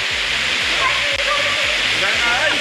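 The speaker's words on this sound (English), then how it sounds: "So we made it to the waterfall right here." Waterfall at Gozalandia in San Sebastian, Puerto Rico, a loud steady broadband rush of falling water filling the scene, with people talking over it throughout.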